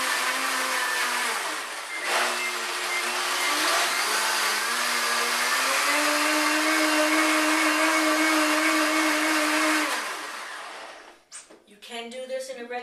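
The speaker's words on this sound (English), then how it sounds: "You can do this in a regular blender." A blender whirs steadily for about ten seconds while blending raw mushroom soup, its motor pitch shifting slightly, then cuts off, leaving brief talking at the end.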